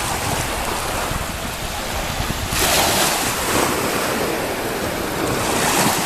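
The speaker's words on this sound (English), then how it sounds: "This is the beach on a very, very calm day." Calm ocean surf breaks gently on a beach on a humid day, a steady wash of water with swells rising around the midpoint and again near the end, mixed with light wind noise.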